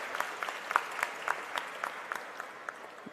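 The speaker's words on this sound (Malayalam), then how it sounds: "എല്ലാവരും കൂടി ഒന്ന് കൈയടിച്ച് അതിനെ പ്രോത്സാഹിപ്പിക്കേണ്ടതാണ്" At a World Cancer Day event at Rajagiri Hospital, a small audience claps faintly and sparsely, with scattered distinct handclaps spread over a few seconds.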